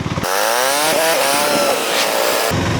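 A car engine revs sharply during a rev-matched downshift from fifth to third gear, a loud close blip rising and then falling back over a few seconds with no talk.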